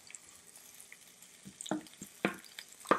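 Onions fry in a pan with a soft, steady sizzle underneath, broken by several short scraping and stirring knocks that grow louder toward the end.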